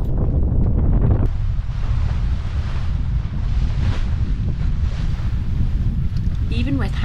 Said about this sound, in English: it started to get windier, and then a bit windier, and then even windier still